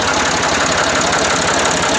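A 1981 IMT 540 tractor engine idling close by, a loud, steady diesel chug with an even knocking rhythm throughout.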